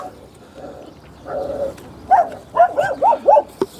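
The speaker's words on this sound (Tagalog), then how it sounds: "Uy, wag na tatahol-tahol dyan. Maririnig tayo." A dog gives a few short barks and yips near the end, preceded by a softer whine, fairly close, with quiet background.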